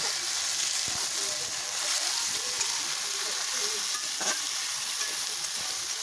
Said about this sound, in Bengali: পেঁয়াজটা একটু ভেজে নিতে হবে এবার দেখো আলুগুলো দিয়ে দিচ্ছি